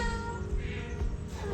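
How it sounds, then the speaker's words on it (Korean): A single drawn-out cat meow, close and fairly clear, over a low background rumble, outside a restaurant in Italy. "문 앞에 야옹이가 그림처럼 앉아있네요"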